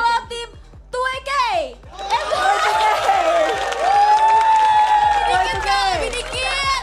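Audience at a JKT48 live game-show event cheers and applauds loudly for several seconds, with shrill whoops, children's voices and a rhythmic thump underneath, rising after a short pause and holding steady.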